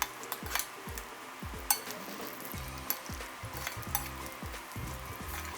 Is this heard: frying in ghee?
yes